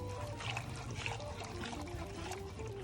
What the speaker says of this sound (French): Je verse le mélange de crème et de jaune d'œuf dans le bouillon